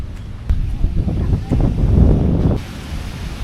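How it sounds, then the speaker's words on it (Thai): Strong wind blows across the beach in front of a hotel at Khao Lak, Thailand, on an overcast rainy July day, buffeting the microphone in loud gusty rumbles that swell and ease, with surf washing faintly underneath. "นี่คือบริเวณชายหาดหน้าโรงแรมนะ ก็ลมก็แรงเหมือนเดิม"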